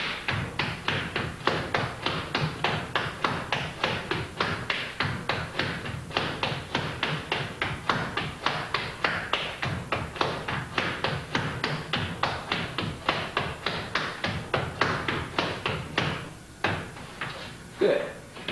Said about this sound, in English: And that's the full-length slap step.